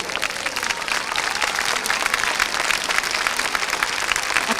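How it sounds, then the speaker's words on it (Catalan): A crowd at a community event in Manlleu gives sustained applause, many hands clapping densely and evenly, loud and close, with no speech over it. "Aplaudiment per tota la gent que ha participat"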